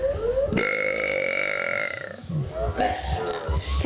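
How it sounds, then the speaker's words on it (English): A long, loud burp rolls out alone in the first half, followed by a second burp mixed with a person's voice speaking and breathing. "Burp!"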